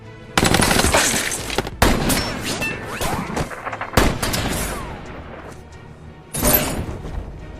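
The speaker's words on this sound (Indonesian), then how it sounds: "melepaskan beberapa tembakan" Gunfire in an action film set in a high-level corruption plot with a sniper: several loud, dense bursts of shots with crashing impacts and echoing tails, separated by brief lulls, no talking.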